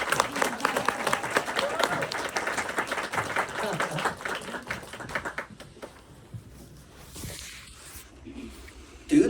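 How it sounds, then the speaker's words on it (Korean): Dense applause from an audience at a talk, steady and fairly loud for several seconds before thinning out and tapering into quieter scattered sounds near the end. "박수!"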